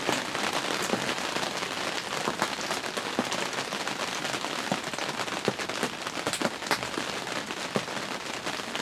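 Steady rain pours down outdoors on a Kansas hunting property, a dense continuous hiss of drops pattering on surfaces with scattered sharper taps, even and close throughout with no voices.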